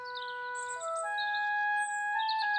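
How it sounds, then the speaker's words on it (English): A little cartoon bird sings a bright, clear melody of pure whistled notes stepping between pitches, with quick chirpy flourishes on top, close and alone. "it's so lovely to wake up to the song of a little bird."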